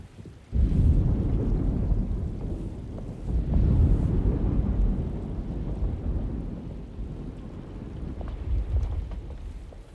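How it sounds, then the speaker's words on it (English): A thunderstorm rolls through the 2024 Alone in the Dark video game, with deep rumbling thunder swelling in waves over steady wind and rain noise, loud and continuous with no voices. "Looks like a storm's coming."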